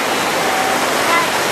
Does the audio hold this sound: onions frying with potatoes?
no